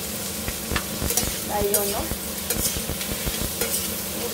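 Onions fry in a pan with a steady sizzle, punctuated by repeated sharp scrapes and taps of a spoon as they are stirred, close by, while someone speaks briefly over it.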